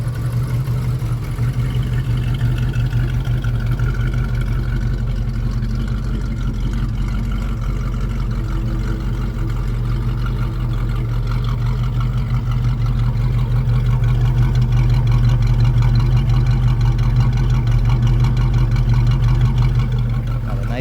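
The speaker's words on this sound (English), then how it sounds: "Nice little exhaust tone." A 1979 Pontiac Trans Am idles with a steady, deep exhaust rumble, loud and close throughout, with a voice briefly talking over it.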